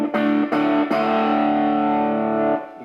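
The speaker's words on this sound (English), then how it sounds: "you can hear the amp distortion" Electric guitar through a small tube amp driven into distortion: three quick picked attacks, then a sustained, gritty compressed chord that rings for about two seconds before cutting off, with no talking.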